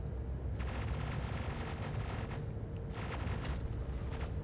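Tempest missiles strike a Perseus ship in a space combat game, heard as a steady low rumbling roar with a few faint crackling impacts layered through it.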